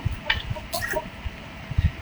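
Chickens on a farm clucking in short, soft bursts, with a few low clucks spread across two seconds and some higher chirps in between, all fairly faint.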